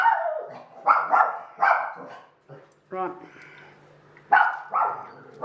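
A dog barks in repeated sharp yips and short barks, loud and close, with a brief whimper between bursts and a person speaking briefly in the pauses.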